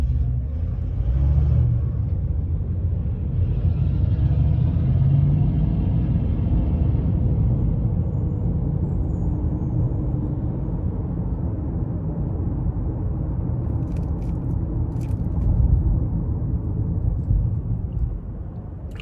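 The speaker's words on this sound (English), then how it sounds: "So next it's time to take this new 21 Accord Hybrid out on the road for a test drive." Steady low road rumble and engine hum fill the cabin of a 2021 Honda Accord Hybrid EX-L on a test drive in stop-and-go traffic, continuous and fairly even, with no talking.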